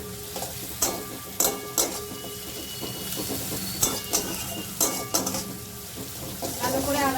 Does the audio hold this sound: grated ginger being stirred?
yes